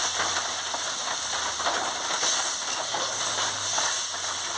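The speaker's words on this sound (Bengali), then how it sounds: "আমি পরিমাণ মতন জলটা দিয়ে দিচ্ছি" Water poured into a hot pan of fried puti fish, bitter gourd and potato curry sets off a loud, steady sizzling hiss that holds close and continuous throughout.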